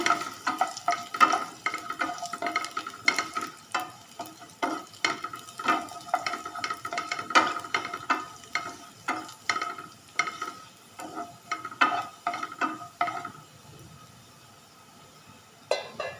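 Garlic frying in a pan for a potato and capsicum dry sabzi, stirred with a utensil that scrapes and clicks in a steady rhythm over a soft sizzle, close and moderately loud, easing off near the end.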